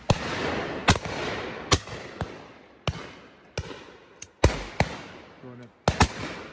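Shotgun blasts during game shooting on Exmoor, about eight sharp reports spaced a second or so apart, loud against quiet open-air background, with brief speech between shots.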